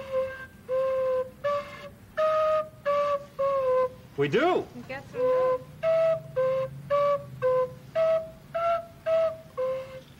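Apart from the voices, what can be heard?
homemade recorder whistling notes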